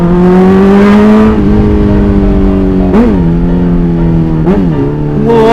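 A big Kawasaki Ninja motorbike engine drones loudly up close, holding a steady high idle-to-mid rev and then giving two or three sharp blips of the throttle in quick succession on the street.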